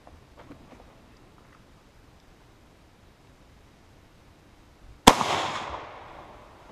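A single sharp rifle shot from a French Lebel Model 1886/93 in 8x50R, a loud close crack with a decaying tail after several seconds of quiet outdoor ambience.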